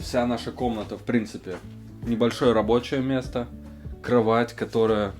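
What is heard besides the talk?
No everyday noise stands out behind the speech.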